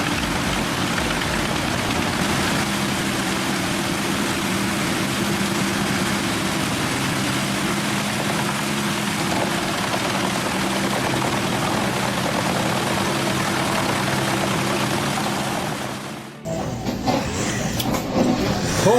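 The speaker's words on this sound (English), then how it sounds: "The Biber 84 RBZ uses a 1220mm drum chipper powered by up to 700 HP." A Biber 84 RBZ drum chipper with a 1220 mm drum and up to 700 HP runs steadily and loudly, a continuous heavy engine drone with grinding texture before cutting off abruptly near the end, followed by shifting noise.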